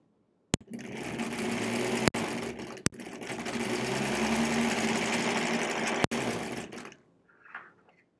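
A 1938 Kenmore model 38 sewing machine stitches on an adjustable extension table, a steady close mechanical whirr running for about six seconds, punctuated by a few sharp clicks, then stopping abruptly into near silence.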